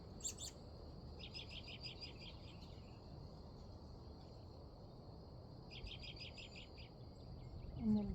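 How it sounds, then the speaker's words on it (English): Birds sing quietly in the distance, repeated bursts of high chirping trills coming and going over a soft outdoor hush. "and listen to the birds."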